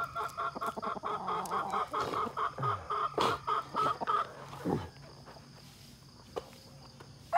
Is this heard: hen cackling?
yes